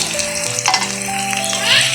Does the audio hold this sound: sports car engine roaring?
no